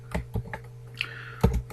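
A handful of soft, close keystrokes tap on a computer keyboard in short clusters over a low steady electrical hum, with a brief whistle-like tone in between.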